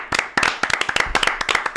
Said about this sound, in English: Cams, round of applause for him.